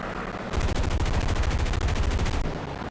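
Forward-firing machine guns of a P-51D in War Thunder rattle in one sustained, rapid burst of about two seconds, loud and even over a constant engine drone that continues before and after.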